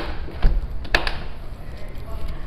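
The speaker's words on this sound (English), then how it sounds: "And then when I open the door," The door of a Mercedes-AMG G63 opens with a couple of sharp mechanical clicks and thuds, close by and outdoors.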